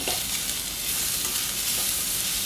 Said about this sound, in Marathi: आणि हे मसाले छान परतवून घेते